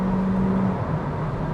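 Chevrolet Cruze Midnight 2022 under full throttle from 60 to 120 km/h, a steady loud engine drone with a tone that rises, dips at a downshift, then climbs again.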